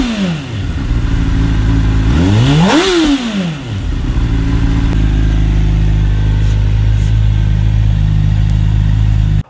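A Honda CBR600RR sport bike's inline-four engine revs sharply once, rising to a high whine and falling back, then settles into a loud, steady idle close by.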